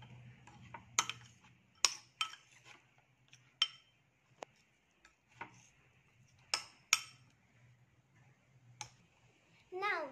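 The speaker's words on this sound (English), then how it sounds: "now mix it well" A spoon stirs chocolate in a bowl for homemade lollipops, making irregular sharp clinks and taps against the bowl with quiet scraping between them, and a short voice-like burst at the end.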